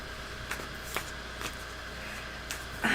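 Tarot cards being shuffled in a few soft, brief riffling bursts spaced about half a second apart, close and quiet over a low steady background hum, with a slightly louder rustle at the end.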